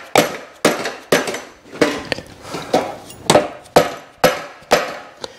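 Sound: hammer striking motorcycle exhaust header

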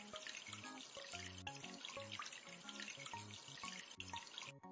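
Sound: water running while washing the bathtub in a kids' cleaning game app

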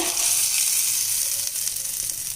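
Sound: tempering mustard seeds, urad dal, curry leaves in sesame oil

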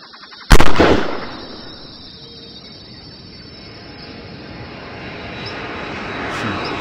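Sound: gunshots in a dinosaur hunting video game

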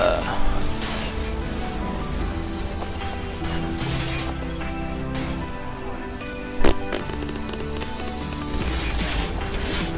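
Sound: gunfire in video game Metal Gear Solid 5

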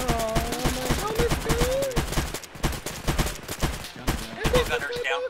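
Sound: gunfire from a vehicle in the video game Arma

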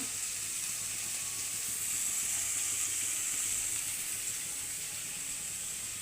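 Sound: vegetables frying in a pan

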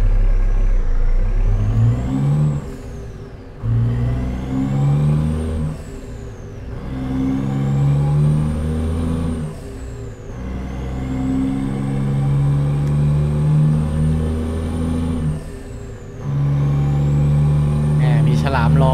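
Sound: Kenworth W900 truck engine in American Truck Simulator video game

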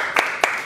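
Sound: audience clapping

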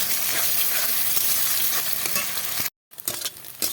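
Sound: eggs being scrambled and fried in white oil in a wok

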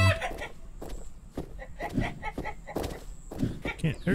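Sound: chicken clucking in the video game Survival Simulated

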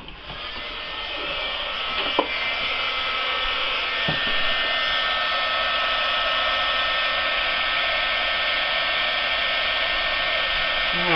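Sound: heat gun blowing on acrylic pour

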